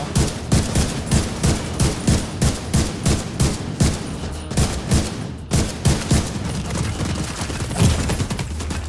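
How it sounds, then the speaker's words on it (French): A Gatling gun roars in The Division 2, a long steady burst of rapid rhythmic shots, loud and close, pausing briefly midway before resuming. "C'est quoi, c'est une Gatling qu'il a?"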